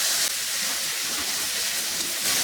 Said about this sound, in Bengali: ওগুলা দিয়ে একটু ভেজে নিব